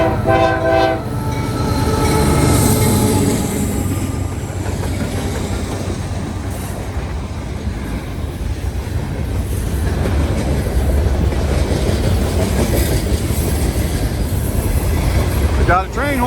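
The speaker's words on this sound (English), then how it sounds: "We got train number 196 northbound. Here we go. They're finally moving." A freight train, number 196, rolls past heading northbound after sitting for hours, with a horn blast at the start, then a continuous close rumble of rail cars and wheel clatter, and a squeal near the end.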